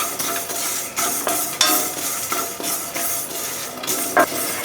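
Moong dal dry-roasting in a pan, stirred steadily, produces a close, dry scraping and rustling hiss with frequent small clinks and scrapes.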